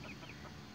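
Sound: chickens clucking, Plymouth Rock hens

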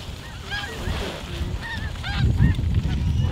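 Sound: snow geese honking

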